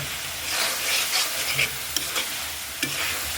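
Potatoes stirred into masala frying in a pan, a steady broad sizzle with a few soft scrapes and taps of the spoon, close up and continuous with no talking.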